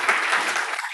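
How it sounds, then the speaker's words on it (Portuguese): Congregation applauding in a church, a brief burst of steady clapping from a crowd that fades out within a second. "uma salva de palmas para o Lucas"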